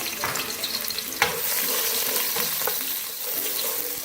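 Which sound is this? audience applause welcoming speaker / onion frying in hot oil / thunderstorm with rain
onion frying in hot oil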